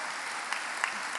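Crowd applause at a conference hall, a steady wash of clapping with a few sharper cheers, moderately loud and continuous for about a second.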